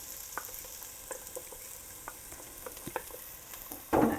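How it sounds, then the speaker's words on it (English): Onions sizzle in olive oil in a pot, a steady low hiss dotted with light spoon clicks and taps, ending in a sudden louder burst of frying. "So I'm going to add my onions"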